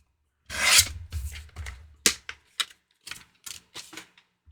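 A paper print is trimmed down on a cutter, with a long close slicing rasp followed by a series of short, sharp cutting and tapping sounds spaced irregularly, each standing alone against silence.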